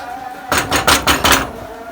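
Rapid knife chops through leafy greens on a cutting board, about five firm thuds in quick succession, close and fairly loud.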